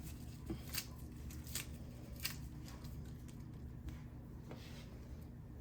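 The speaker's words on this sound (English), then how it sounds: "I just decided to add some spinach to that. Rip up a little bit." Spinach leaves torn apart by hand in a home kitchen, a few short crisp rips and rustles spread over several seconds against a steady low background hum, close and fairly quiet, with no talking.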